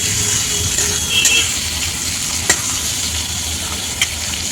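Spice paste sautés with potatoes, salt and turmeric in a pan, a steady loud sizzle close up with occasional spatula scrapes and clicks as the mixture is stirred, no one speaking.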